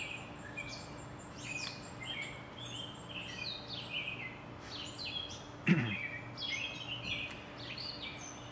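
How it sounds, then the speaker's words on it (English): Birds chirp and trill continuously in the background, with several overlapping calls at a moderate distance. A brief knock interrupts partway through. "The birds are chatty today."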